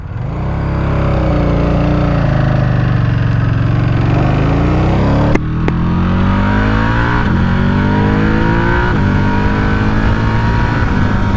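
A Buell Hammerhead 1190 sport motorcycle engine revs up loudly and accelerates hard, pitch climbing through quick-shifter gear changes, close and continuous.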